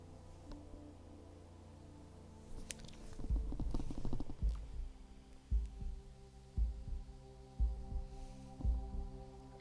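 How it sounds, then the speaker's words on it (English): Heavy heartbeats in the horror game Narrenschiff: dull, deep thumps in a slow, steady rhythm that emerge from a low rumbling swell, with no voices. "In the darkness, I could hear no words but heavy heartbeats of the dead."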